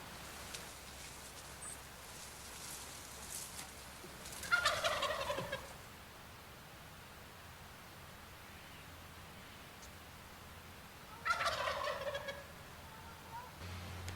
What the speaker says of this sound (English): Ashland is home to rafters of wild turkeys.